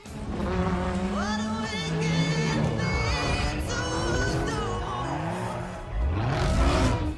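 Cars race in the video game Forza Horizon 3. Several engines rev and whine up and down through gear changes, loud and close, and the roar surges again near the end.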